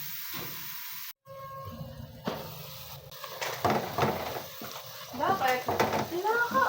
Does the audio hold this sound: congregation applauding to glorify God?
no